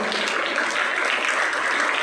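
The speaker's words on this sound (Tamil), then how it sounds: "அவங்கள பெருத்த கரகோஷத்தோடு பாராட்டியே ஆகணும்." Students at a Tamil club debate event give a brief, steady wash of audience clapping that holds at an even level for about two seconds.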